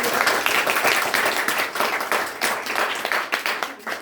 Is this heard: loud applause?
yes